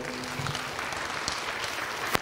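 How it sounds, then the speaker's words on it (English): Applause from an audience at an honoring ceremony in New Jersey, USA: steady, dense clapping that fills the whole stretch at an even level, with no speech over it. "So, a big round of applause for Eric Peterson."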